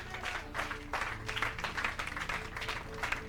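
A church congregation applauds together, with steady, fairly close clapping in rhythmic waves that carries through the whole stretch alongside a faint voice.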